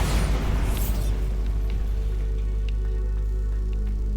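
A Bombarda blasting spell goes off in Hogwarts Legacy with a deep, rumbling boom that fades slowly into a sustained low drone, loud and close.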